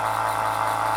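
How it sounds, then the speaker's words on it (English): A small air compressor for an airbrush runs steadily nearby, giving a continuous mechanical hum with a buzzing drone and a fixed low tone, heard alone. "Sorry about the background noise of the little compressor."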